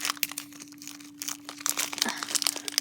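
Plastic packaging from a fidget toy and slime haul crinkles and crackles steadily up close, a dense stream of small rustles and snaps with a faint steady hum underneath.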